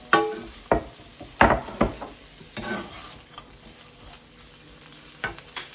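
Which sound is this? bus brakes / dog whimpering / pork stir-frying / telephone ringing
pork stir-frying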